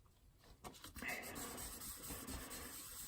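Soft, steady rubbing and scraping of light wet sanding on a cracked helmet, continuous and close, with faint background noise.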